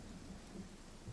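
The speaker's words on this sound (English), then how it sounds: "looks like the storm is going now." Thunderstorm with steady rain in the fantasy game Pathfinder: Kingmaker, a constant wash of rainfall with low rumbling thunder rolling underneath, fairly quiet and continuous without any voices.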